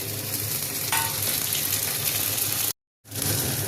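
Chopped tomato goes into a pan of frying onions and chillies, raising a loud close sizzle with stirring scrapes, the crackle continuing steadily before a brief cut to silence and back.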